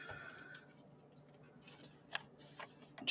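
Scissors snipping paper while prepping an autumn journal, a few faint, sharp cuts close by, spaced irregularly with quiet handling between them and the loudest snips near the end.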